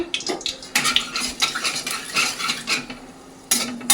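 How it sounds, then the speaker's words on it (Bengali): Whole garam masala and bay leaves frying in oil and ghee, with a light sizzle beneath close, busy spatula scrapes and metallic clinks on the pan, pausing briefly before resuming; no one speaks. "গোটা গরম মশলা আর তোমার তেজপাতাটা ভাজা ভাজা হয়ে গেছে"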